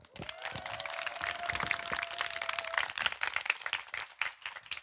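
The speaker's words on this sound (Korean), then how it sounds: "오늘 이 자리 북콘서트 여러분들의 힘찬 박수로 시작하겠습니다" Audience applause opening a book concert in a hall: sustained, dense clapping from a crowd that carries on for several seconds, with no voices over it.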